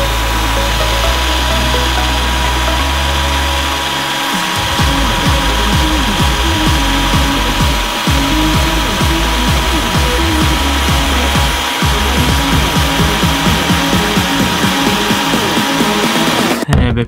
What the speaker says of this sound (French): une boule de bowling qu'il a voulu découper